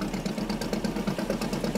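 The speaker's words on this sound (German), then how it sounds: "starten den Motor und" Boat engine in the Fishing: Barents Sea simulator game, a steady mid-pitched diesel rumble with a slight knocking pulse running continuously at moderate level, no voices over it.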